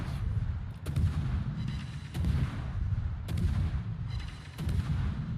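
Repeated heavy naval gun salvos in World of Warships, a tier 10 Pan-European destroyer battle, booming roughly every second and a half with deep rumbling tails, loud and close with no talking over them.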